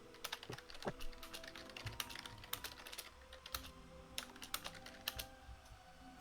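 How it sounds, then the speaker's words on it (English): Furious typing on a computer keyboard: rapid, irregular clusters of sharp key clicks and clacks, close and fairly quiet over a low background hum, with no talking. "Furious typing."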